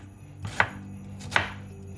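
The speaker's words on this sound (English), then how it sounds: "cut the onion" Two crisp knife chops cut through an onion on a board, close and clean, spaced under a second apart in a quiet kitchen.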